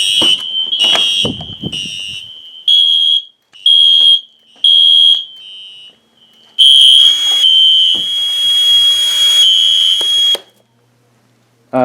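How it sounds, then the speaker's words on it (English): A late-1990s fire alarm system under test blares a loud, piercing electronic tone, first in choppy repeated bursts, then in a long sustained blast before cutting off. "the classic is quite a loud alarm"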